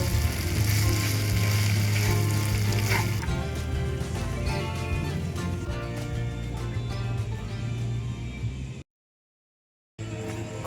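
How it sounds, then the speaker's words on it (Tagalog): Onions fry in a pan at an outdoor campsite, giving a loud, dense, continuous sizzle close by, with some rattling clatter and a brief dropout near the end. "Lagyan na natin yung sibuyas."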